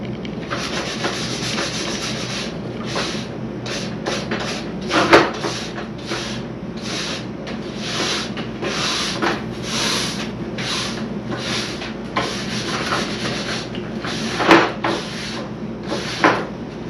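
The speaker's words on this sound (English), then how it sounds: "I am putting quite a lot of pressure when I'm brushing the skis out" A stiff brush scrubbed hard along the base of a waxless cross-country ski, with repeated rasping strokes at a steady back-and-forth rhythm, close and fairly loud, with no talking.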